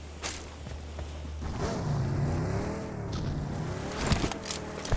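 A car in a video game pulls away, its engine note rising into a steady, wavering drone that carries through the middle of the stretch before fading under small bumps and knocks.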